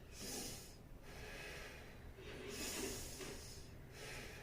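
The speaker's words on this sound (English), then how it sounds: "watch me while taking the breath in." Several slow breaths drawn in through the nose, each a soft, airy rush at close range, spaced about a second apart with brief pauses between.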